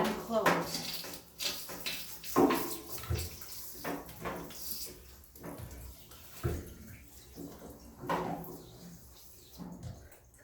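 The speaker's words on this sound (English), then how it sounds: "open low valve, bleed air, and close." Water sputters and hisses in bursts as air is bled from the open low valve of a backflow preventer test kit during an ASSE 1015 test, heard close with splashy gushes and no talk.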